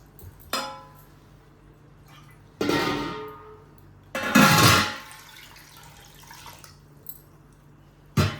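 Water added to a pot of tamarind-based pachipulusu arrives in three or four distinct splashing pours with quiet gaps between, the longest and loudest burst coming partway through.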